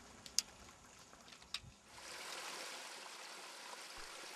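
Mountain streams in England's Lake District run down toward a lake, a steady rushing hiss of flowing water that swells and holds after a couple of faint knocks.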